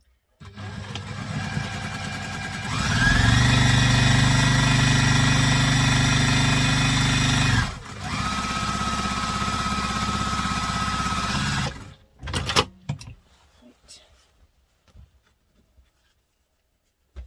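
A sewing machine stitches the back panel of a laptop briefcase. Its motor whirs steadily in a loud, close run of several seconds, pauses briefly, then runs again before stopping, with a few clunks and rustles afterward.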